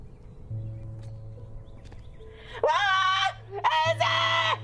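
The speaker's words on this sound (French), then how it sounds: "Pourquoi est-ce qu'elle crie?" A woman screams in two loud, piercing bursts of about a second each, set against a steady low hum and faint background sound.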